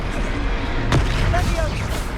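A Confringo fire spell blast in Hogwarts Legacy, heard as a sharp broadband burst near the one-second mark amid ongoing combat noise and game music, with a brief boom tail.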